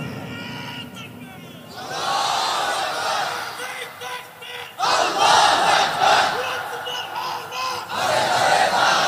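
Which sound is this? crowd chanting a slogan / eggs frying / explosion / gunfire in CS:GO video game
crowd chanting a slogan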